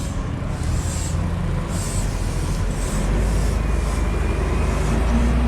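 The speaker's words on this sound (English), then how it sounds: "They have these old Mercedes-Benz buses." Old Mercedes-Benz bus passing on a Buenos Aires street, a loud steady engine rumble and road noise swelling slightly as it goes by, alone without talk.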